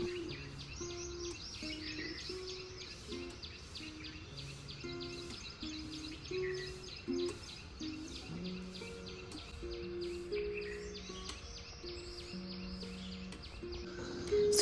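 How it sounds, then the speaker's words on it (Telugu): Birds chirp and tweet in short repeated calls near a house on a pleasant morning. The calls are faint and somewhat distant, set over soft background music, and no one speaks. "బర్డ్ సౌండ్స్తో అదంతా చాలా బాగుంటుంది"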